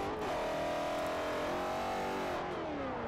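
A 3-rotor Mazda RX-7 engine at full throttle in Forza Motorsport 4, a loud, steady high-pitched rotary wail that climbs and then dips as the car drifts, with no talking.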